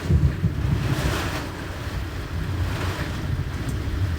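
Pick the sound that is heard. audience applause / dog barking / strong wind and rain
strong wind and rain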